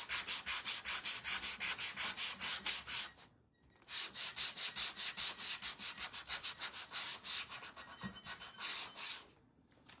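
Sandpaper rubbed across a craft piece in quick, even back-and-forth strokes, close and steady, with two brief pauses between runs of rasping.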